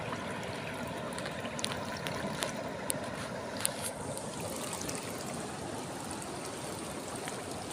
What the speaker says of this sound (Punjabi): ਕਿੰਨਾ ਤੇਜ਼ ਹੈ ਪਾਣੀ ਇੱਥੇ